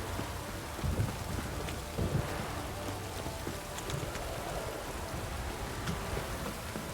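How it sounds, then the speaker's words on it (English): Heavy, steady rain pouring down in The Witcher 3: Wild Hunt with a dense hiss, a few dull low thumps mixed in. "This downpour's a bastard"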